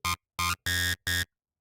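FM synthesis in Ableton Live, a saw wave multiplied by a sine, gives four loud, harsh, buzzing tones in quick succession. The third is longer, and each cuts off abruptly into silence.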